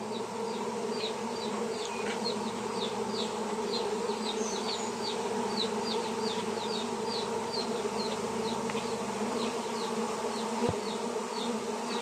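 A large swarm of honey bees buzzes in a dense, continuous drone during hive work returning a swarm to its original box, with steady layered hum and no speech.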